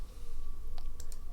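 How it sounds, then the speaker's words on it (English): A computer mouse is right-clicked while working in Autodesk Inventor, giving a couple of brief, crisp clicks close to the mic over a low steady hum. "and right click it"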